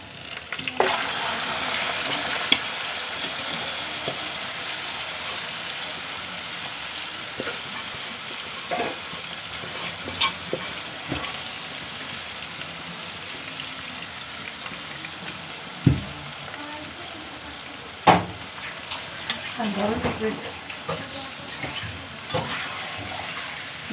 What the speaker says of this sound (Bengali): এই যে আমার বেরেস্তা ভাজা হয়ে গেছে, এখন মাংস দিয়ে দেবো